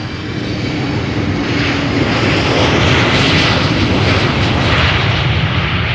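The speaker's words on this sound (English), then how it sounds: "Just in time for the departure of the Emirates A380" An Emirates Airbus A380 departs from a runway at Amsterdam, heard from a distance as a loud, continuous broadband jet roar that swells slightly in the middle and holds steady for several seconds.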